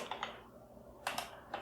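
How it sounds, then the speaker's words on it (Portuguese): Keys tap on a computer keyboard, with a few quick clicks at the start and a pair of firmer presses near the end. The clicks are close and quiet, with no voices. "Vou dar um Tab aqui para completar e dar um Enter"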